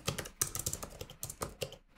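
Fingers type rapidly on a computer keyboard, a close, irregular stream of crisp key clicks with brief gaps between bursts and a few heavier keystrokes, with no voices.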